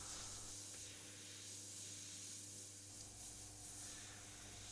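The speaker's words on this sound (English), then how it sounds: "So back grabbing my airbrush there, and this is a Iwata CMC Plus Micron" An Iwata CMC Plus Micron airbrush with a 0.23 mm needle sprays paint in a soft, steady hiss close by, continuous over a low hum with no talk.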